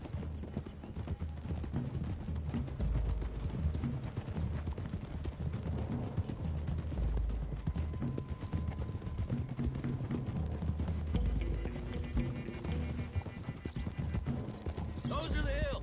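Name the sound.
horses galloping, hooves clip-clopping, in video game Red Dead Redemption 2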